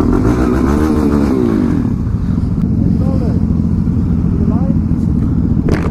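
A Yamaha R6 sport motorcycle engine runs loud and close, a dense continuous roar with rising revs partway through, heard alone without speech.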